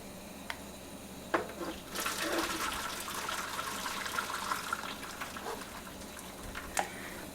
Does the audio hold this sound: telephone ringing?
no